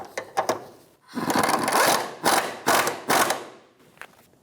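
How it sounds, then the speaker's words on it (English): A ratchet wrench snugs a nut onto the bottom stud of a side engine mount on an Infiniti G35, giving a few quick clicks followed by several short, close bursts of ratcheting, then silence. "Install the nut on the bottom stud and snug it down."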